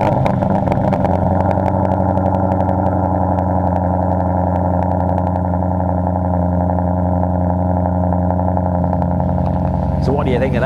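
A Maserati Quattroporte with a Quicksilver exhaust idles after a cold start, a deep, rumbling exhaust drone that holds steady throughout, close to the microphone and filling the whole clip.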